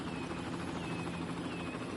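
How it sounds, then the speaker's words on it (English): Helicopters arriving in the PS5 version of the city-building game Cities Skylines make a steady droning rotor hum that holds at an even level for the whole stretch, with no talking. "Got helicopters coming in"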